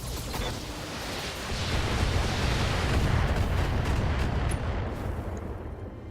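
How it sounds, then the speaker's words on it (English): Weapons fire in a BattleTech mech combat video game: a heavy, roaring wall of booming blasts and rumbling explosions that swells and sustains for several seconds before easing slightly. "Firing everything I've got."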